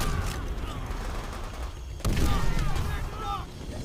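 Gunfire and explosions in a Call of Duty: World at War battle, with steady crackling shots and a louder blast midway, continuing dense and chaotic.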